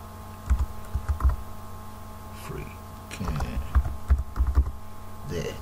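Typing on a computer keyboard at a desk, with a few scattered keystrokes and then irregular bursts of clacking over a steady low electrical hum.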